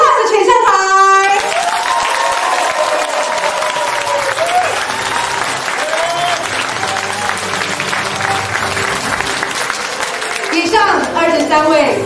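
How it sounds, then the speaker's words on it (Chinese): An audience claps warmly at a campaign rally in Hualien, with steady applause running throughout and an amplified voice speaking over it from a loudspeaker at the start and again near the end. "我们先给他们热烈掌声"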